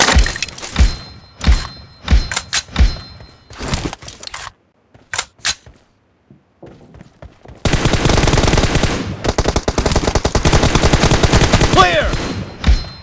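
Gunfire in the battle game PUBG (BGMI), starting as scattered single shots and short bursts, then after a brief quiet turning into a long, loud, dense stream of rapid automatic fire.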